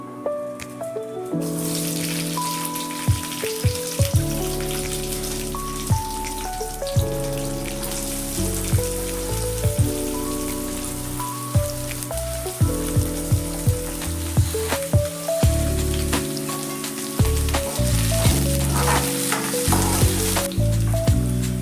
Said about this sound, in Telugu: ఆయిల్ వేడెక్కాక జీలకర్ర, ఆవాలు, ఇందాక చూపించిన ఇంగ్రీడియంట్స్ అన్నీ వేసుకోవాలి.